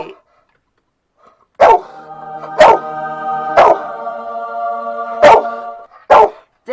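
A dog barks five times at home, loud and close, sharp single barks spaced about a second apart with quiet gaps between.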